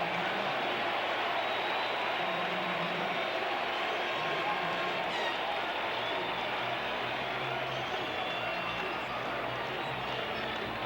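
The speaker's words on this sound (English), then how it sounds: "the crowd will react to Reggie Jackson" Big stadium crowd at a 1978 World Series baseball game between the New York Yankees and Los Angeles Dodgers, a dense steady roar of many voices swelling as Reggie Jackson comes up, continuous and unbroken throughout.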